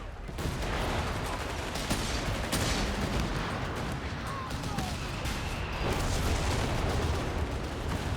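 Artillery fire from a Bishop self-propelled gun in the Company of Heroes 3 war game, heard amid a dense, continuous wash of battle noise with repeated booms and gunfire throughout, no clear pauses.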